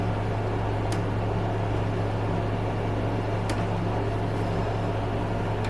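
Steady mechanical hum of a sewing machine stitching down an appliqué mailbox post on a quilted car mat, a continuous low drone with a couple of faint clicks, no talking.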